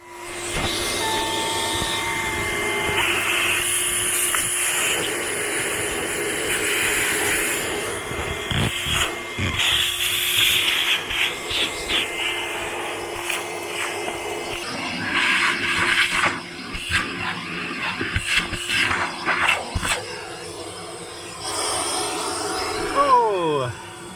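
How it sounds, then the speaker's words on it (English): A vacuum cleaner whines and roars steadily, its motor pitch shifting as it moves, with bumps and clatter and an occasional voice over it. "just needs a little bit of a vacuum, only a little bit. So I'll get to that now"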